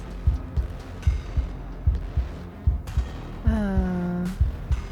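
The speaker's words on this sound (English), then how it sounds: "Do you hear the heartbeat?" A game heartbeat from Slay the Princess, a horror-tinged visual novel, pulses in slow, steady low thuds about once every half second. Near the end a sustained tonal hum rises over the beats.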